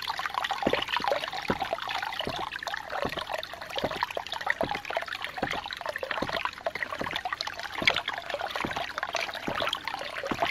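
Water from a 2-inch Agri Papa pump splashes and gushes in a steady stream, with regular pulsing surges about every half second, close and fairly loud, with no voices.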